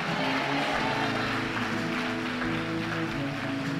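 Church congregation applauding during a Portuguese-language service, dense steady clapping from a large crowd, continuous and loud with a droning background tone.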